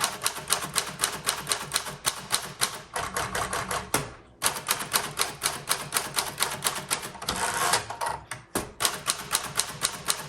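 Steady, rapid clacking of a 1941 Corona Standard manual typewriter's keys, close and loud, with a brief pause and a carriage-return ding partway through, no voices.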